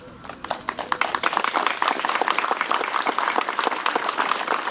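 Local residents applaud at the opening of a village memorial obelisk to deportation victims, clapping starting thinly then swelling into dense, lively outdoor applause with a faint tone underneath.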